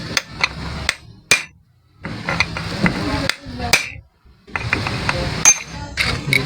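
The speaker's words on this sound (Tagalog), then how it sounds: "kailangan meron kayong sisil, martilyo, sisilin nyo na lang para lumuwag" A hammer strikes a chisel to loosen a stubborn screw on a 250cc big-bike carburetor. Sharp metallic clinks come in irregular bursts with short pauses between them, close to the microphone, and a faint voice can be heard at times.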